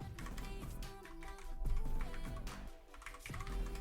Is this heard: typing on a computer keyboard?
yes